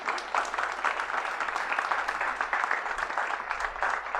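An audience at a school graduation ceremony for the class of 2024 claps steadily throughout, a dense, even patter of many hands heard from some distance without cheering.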